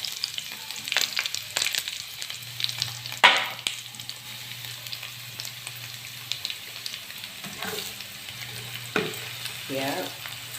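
Dried fish fries in oil in a pan, a steady close sizzle and crackle throughout, with occasional sharper pops and stirring scrapes, and no talking.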